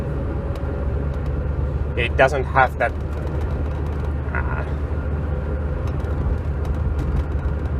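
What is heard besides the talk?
Lancia Delta HF Integrale four-cylinder engine running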